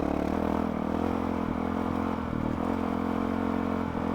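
A Honda CRF450RL off-road motorcycle with a Yoshimura exhaust drones steadily and loudly with a raspy exhaust note, held at a constant pitch throughout.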